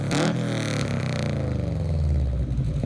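A Honda Civic engine fitted with an unequal length manifold burbles with a deep, uneven, loping exhaust note that is loud and close, with a short rev at the start before it settles into a rumbling idle.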